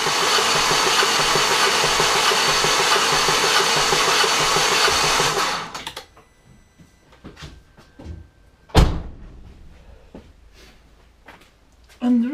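A 2004 Vauxhall Corsa C with a non-start fault cranks with the throttle held wide open during a compression test, a loud, steady rhythmic churn for about five seconds that stops abruptly, followed by scattered clunks and clicks.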